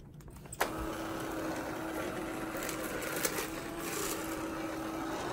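A small battery-powered Bissell Perfect Sweep Turbo carpet sweeper whirs steadily after a click, sweeping hay from a guinea pig pen, a continuous motorized hum with light brushing and a few bumps.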